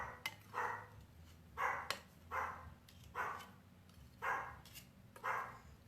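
Dog barking in short, regular bursts of about six barks, moderately near, alone over a low background hum in a home kitchen.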